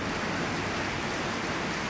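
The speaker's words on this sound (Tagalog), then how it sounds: "Grabing ulan yan." Heavy rain pours in a dense, steady roar with no breaks, close and fairly loud throughout.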